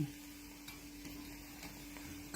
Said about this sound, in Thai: ข้าวเหนียวที่แห้งแล้ว เพื่อนๆเดี๋ยวไปทิ้งเด้อเสียดายนะคะ เอามาทอด